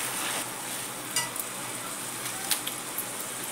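Tomatoes sautéing in a pan for a prawn dish, making a soft, continuous sizzle with a few light clinks of a utensil against the pan.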